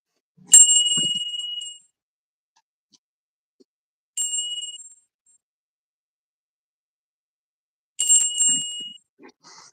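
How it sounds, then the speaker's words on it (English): A small ritual bell is struck three times after a memorial blessing, each bright metallic ding ringing out clearly and decaying over about a second, with silent pauses of roughly three seconds between strikes. "Say the blessing that you want, and then I'll ring the bell."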